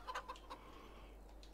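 Chickens in a coop in Farming Simulator 22 with its Premium Expansion, giving a few quick, faint clucks at the start that fade into quiet background hiss.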